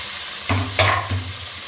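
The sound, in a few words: onions sizzling as they fry in oil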